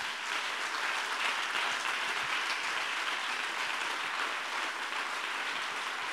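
A church congregation applauds the Lord during a French-language testimony service, a dense, steady wash of clapping with no pauses and no voices on top.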